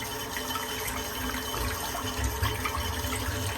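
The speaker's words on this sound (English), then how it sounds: "we just sort of literally run the water through it and just flick it from the side" Steady running water from a tap rinses a shaving brush, splashing and gurgling continuously, close and fairly quiet, with small irregular splatters and no voices.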